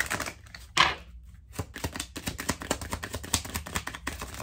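Tarot cards being shuffled by hand, a rapid run of crisp papery clicks and riffles with a louder flutter near the start, close and fairly quiet with no talking.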